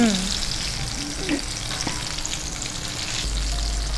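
Food for chicken uppunchi sizzling and frying in a pan, with a steady close hiss and a few scraping stirs, no voice heard.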